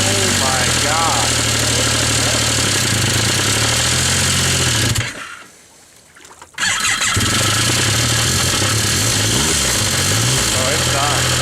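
An engine with a failing rod bearing runs loudly nearby with a rough, knocking idle, cuts out briefly in the middle, then fires back up under voices.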